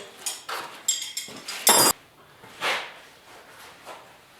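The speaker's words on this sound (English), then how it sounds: "let's hammer away" A hammer strikes the frame of a 1968 Chevy truck in a handful of sharp metallic blows, one especially loud ringing hit, irregularly spaced and fairly close.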